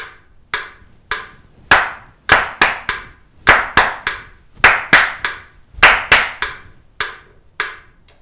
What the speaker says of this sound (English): And let me just clap this for you.